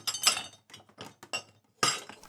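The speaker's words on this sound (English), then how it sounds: "the sound of some crockery rummaging about" Crockery rummaged about, with a string of clattering clinks and knocks at uneven intervals, close and fairly loud, and a heavier clatter near the end.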